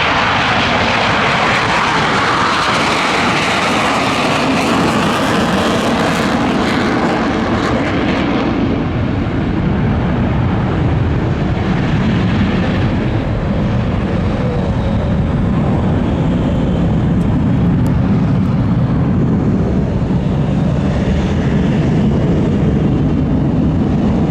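Blue Angels jets performing at the Pensacola Naval Air Station airshow, a loud, continuous broadband roar that sweeps and fades as the aircraft pass overhead, with no talk.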